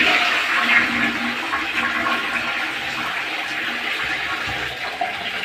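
A toilet flushes with a steady, rushing swirl of water that stays loud throughout, then begins to settle toward the end.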